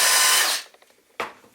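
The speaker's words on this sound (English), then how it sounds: "So you can drill and then just immediately get in with the countersink" A power drill countersinks into scrap wood with a loud, high whine that winds down, then a brief second burst of drilling after a short pause of small clicks.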